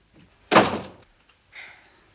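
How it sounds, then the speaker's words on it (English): A door swings shut with one solid, close thunk, followed a second later by a softer latch sound. "Do you want me to close the door?"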